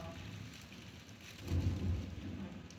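Stage sound effect of a thunderstorm in a theatre production of The Tempest: steady rain hiss throughout with a low thunder rumble swelling midway, moderately loud and without voices.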